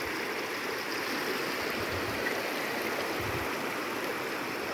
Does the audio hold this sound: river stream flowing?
yes